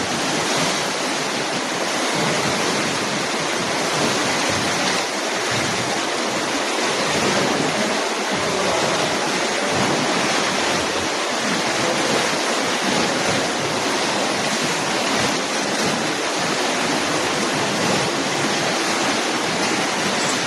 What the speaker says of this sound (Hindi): देखिए समुद्र।